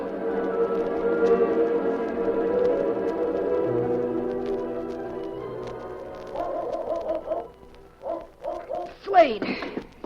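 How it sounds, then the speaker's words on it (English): A dog barks in an old radio drama, several short yips and barks arriving toward the end after a stretch of voices talking over a low background tone. "you'll soon hear a dog barking"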